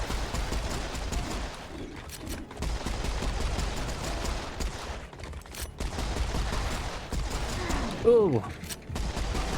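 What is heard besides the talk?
dual pistols firing at skeletons in video game Serious Sam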